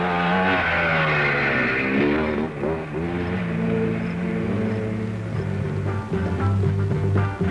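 Motorcycles at the 1973 International Six Days Trial in Dalton, Massachusetts rev and roar loudly, engines rising and falling in pitch over several seconds with overlapping exhaust notes and no talk.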